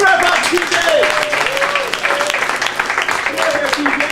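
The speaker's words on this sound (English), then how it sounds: "Big round of applause," Live audience at an improv comedy show in a bar claps and cheers steadily throughout, with a performer's voice talking over the applause.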